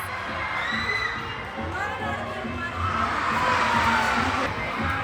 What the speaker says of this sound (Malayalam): Full അലർച്ചയാണ് guys.